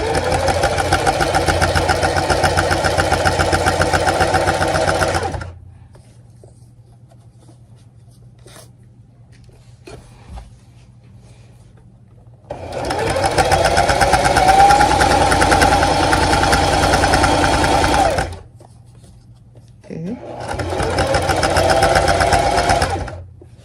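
A sewing machine runs in three long bursts as it stitches down a French seam on a pillowcase, a loud, close, steady mechanical whir that stops and restarts, with a quiet low hum in the pauses.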